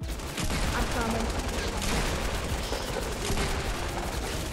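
Shotgun and other gunfire in a Fortnite Battle Royale match: dense, loud bursts of shots in quick succession over game noise, with a voice faintly talking underneath.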